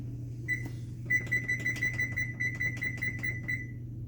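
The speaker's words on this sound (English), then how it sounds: "Close that up and put our timer on." An oven timer on a kitchen oven used for baking pizza gives one short beep, then a steady string of quick, evenly spaced beeps that stops abruptly, over a low appliance hum.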